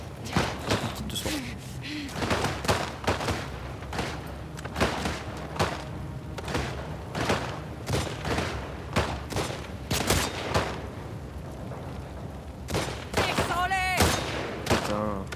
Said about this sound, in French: Je fais que tirer dans le vide, c'est terrible.